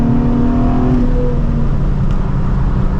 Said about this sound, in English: Let's shift down to third.